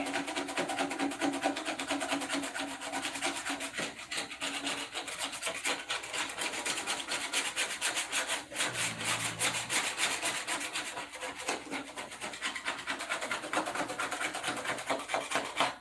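A steady, continuous rasping of a file scraping the edge of an abalone shell, loud and close, running the whole time without pause or voices.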